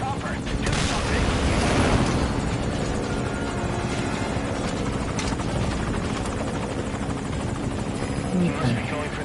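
A helicopter flying in Metal Gear Solid V, its steady rotor drone loud and continuous throughout, with busy mechanical noise and possible gunfire layered beneath, and no talk over it.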